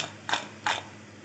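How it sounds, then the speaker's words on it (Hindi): Two short, sharp crunchy bursts about a third of a second apart, close up, of crispy fried potato kurkure fries being crunched, with no talking. "आपको आवाज़ आ रही है ना, कितनी क्रिस्पी बने हैं"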